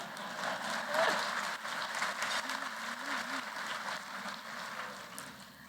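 Audience at an awards presentation applauding and cheering, a dense continuous roll of clapping filling the room from start to finish, with a brief vocal sound near the beginning.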